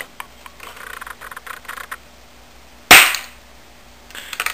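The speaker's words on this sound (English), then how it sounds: "I'm shooting the Modelin clay." An airsoft gun fires a single loud, sharp shot into modelling clay after some quiet handling clicks, with more faint clicks afterward.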